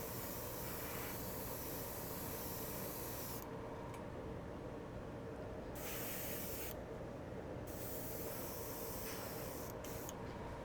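Spray painting a base coat onto a 1:24 scale Revell Daytona Spyder model car body, a steady hissing spray in several long bursts separated by brief pauses, close and quiet over a faint hum.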